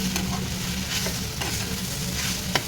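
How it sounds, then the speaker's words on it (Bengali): Tender leafy greens frying under a lid over low gas, a soft continuous sizzle with occasional light scrapes and taps of a utensil. "একটা কচি কচি শাক আমি এরকম ঢাকন দিয়ে দিয়ে ভাজছি আর গ্যাসটা সিম করে দিয়েছি"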